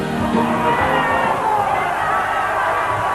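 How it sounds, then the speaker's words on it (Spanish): Supporters of the Alianza party celebrate an election result in a hall, a dense crowd roar of shouts and cheers sustained at a high level throughout. "explotaron los partidarios de la Alianza en un solo grito, saltan, gritan, aplauden"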